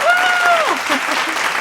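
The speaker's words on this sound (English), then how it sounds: "Can I get a round of applause?" A short applause sound effect of a crowd clapping, bright and close. A rising and falling whistle-like tone sits over the start before the clapping continues steadily.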